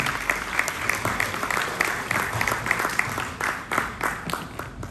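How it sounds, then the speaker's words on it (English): A live audience claps continuously for a panel guest, the crowded clapping steady and fairly close, with slight rhythmic surges as hands strike together. "Please clap for him."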